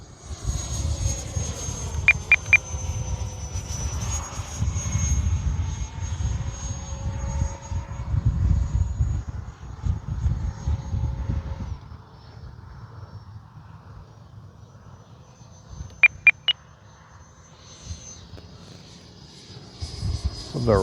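A Freewing F-22 Raptor RC jet with an 80mm electric ducted fan whines steadily overhead in flight, fading and returning at a moderate distance. Brief beeps sound now and then.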